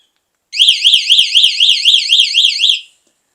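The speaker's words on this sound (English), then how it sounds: "we've got an alarm on this e-bike" A Model J e-bike's security alarm sounds a loud, close electronic siren, rapidly warbling up and down in repeated sweeps for about two seconds before cutting off cleanly.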